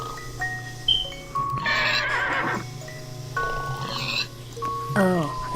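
A zebra in a video game gives several shrill, horse-like whinnies and snorts in short bursts over a steady electronic game background, fairly loud and close.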